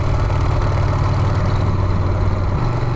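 Harley-Davidson Sportster motorcycle engine idling nearby, a steady loud low rumble with an even throbbing pulse and a slight pitch shift near the end, no voices.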